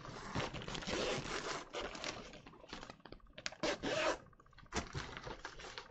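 Zippers on the front of a yarn bag being opened, a series of quick rasping zips in bursts, close and fairly faint, mixed with fabric rustling.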